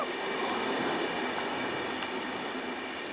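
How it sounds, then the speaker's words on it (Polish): A departing train rumbles steadily past nearby in Bydgoszcz, Poland, a continuous loud rolling roar of wheels on rails with faint clicks and squeaks, and no voices. "I oto jest procedura odjazdu tegoż pociągu."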